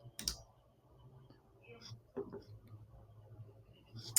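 Sharp computer mouse clicks while adding business cards to a basket on the Vistaprint website: a couple of distinct clicks, one near the start and one at the end, with a faint mid click, over a quiet room hum.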